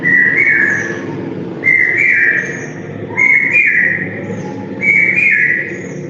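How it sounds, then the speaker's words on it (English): A male common hawk cuckoo repeats its loud three-note brain-fever call four times in a steady rhythm, with the second note longer and higher, ringing clearly over a low background hum. "the male produces a loud, repetitive three notes calls that are well rendered as brain fever"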